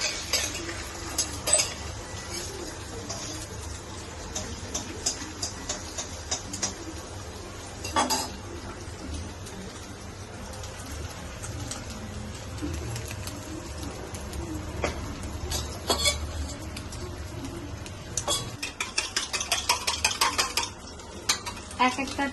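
Beaten eggs cook into an omelette in a pan at home, with a faint sizzle under repeated clinks and scrapes of utensil against metal, while birds call in the background.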